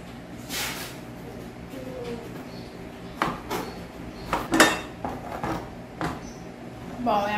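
A knife slices through fruit for a colorful tropical salad and halves it on a cutting board, with several sharp, scattered knocks and clicks against a soft kitchen background.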